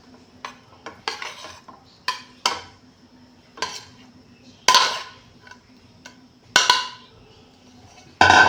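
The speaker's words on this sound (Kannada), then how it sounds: "ಚೆನ್ನಾಗಿ ತಿರ್ಸ್ಕೊಳ್ಳೋಣ" Tamarind rice stirred in a pan with a spoon off the heat, making a series of separate sharp metallic scrapes and clinks spaced about a second apart, close and clear against a quiet background.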